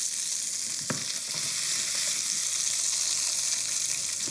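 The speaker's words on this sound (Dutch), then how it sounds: "Kijk, we gaan dat een klein beetje laten reduceren." Endive deglazed with beer reduces in a hot pan, giving a constant bright sizzle and hiss at close range, with a brief clack of a utensil near the start and no talking.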